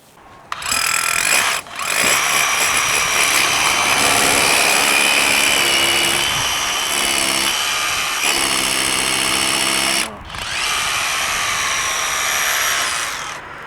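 A loud power drill runs close up almost continuously, its whine steady with two brief stops and slight pitch shifts as it bites.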